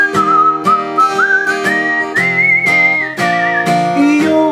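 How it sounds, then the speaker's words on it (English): A clear, melodic whistle carrying a tune, sliding smoothly between sustained notes, close and loud with no talking. "You'll whistle a tune, and I'll whistle a"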